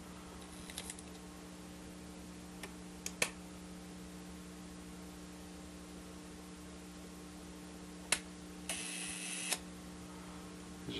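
Faint mechanical clicks of a camera shutter firing, a few sharp snaps and a short whirring burst in an otherwise quiet room.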